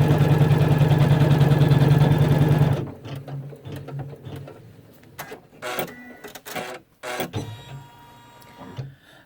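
An embroidery machine stitching a koala lovey runs fast and loud for about three seconds, then stops, followed by scattered clicks, taps and handling noises near the machine.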